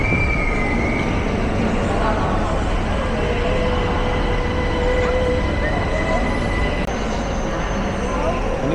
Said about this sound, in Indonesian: Ini dia night jetnya.